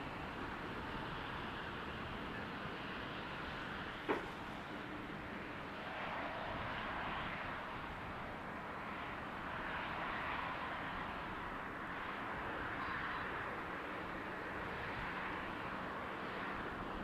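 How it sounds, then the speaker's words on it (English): Heavy jet airliners on approach to the runway threshold at Amsterdam Schiphol Airport produce a steady, distant engine roar and broadband rumble lasting throughout, with one brief sharp tick partway through and no speech. "the two heavies are going to be the first airplanes to arrive"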